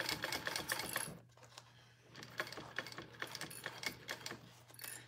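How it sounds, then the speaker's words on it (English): Sewing machine stitching a sling bag gusset in quick, rapid bursts of needle clatter, pausing briefly and then starting again, with a low motor hum under it and no talking. "which is another reason I like to sew with my gusset side up"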